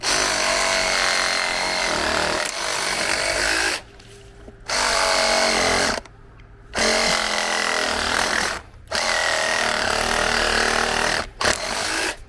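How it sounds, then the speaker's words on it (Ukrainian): A loud Grand reciprocating saw rips through wood in long, steady runs, stopping briefly several times before starting again. "Це основне, як треба працювати з сабельною пилою."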